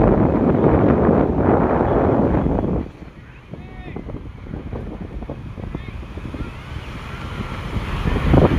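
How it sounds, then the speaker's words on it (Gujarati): Strong wind buffets the microphone at Madhapar beach in Diu, loud at first and then easing, with sea waves washing in behind it and someone talking over the roar. "દરિયાના મોજા એવડે એવડે આવે છે મિત્રો."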